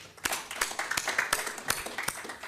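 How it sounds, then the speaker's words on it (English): An audience at a World Kidney Day celebration applauds, with a moderate spread of hand claps and several sharp individual claps standing out over the room. "So a big round of applause to them"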